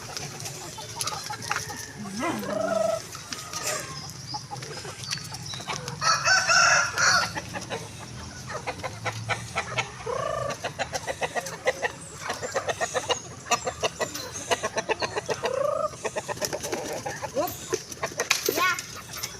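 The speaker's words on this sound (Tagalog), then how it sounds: "Susunod naman ay ang ating mga manok." Chickens cluck steadily and a rooster crows repeatedly during feeding time among farm animals, close and fairly loud, with people talking at times.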